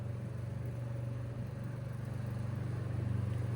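A 1930s quiet blade electric fan with a faulty gearbox runs with a low, steady motor hum and a rapid rhythmic shudder, faint and continuous throughout.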